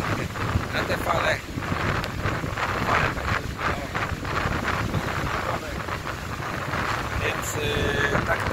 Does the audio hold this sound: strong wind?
yes